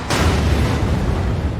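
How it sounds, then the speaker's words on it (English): Reactor explosion effect from a Chernobyl television drama: a sudden loud boom bursts in and settles into a sustained, roaring low rumble that fills the rest of the moment without any voices. "1:23:45, explosion."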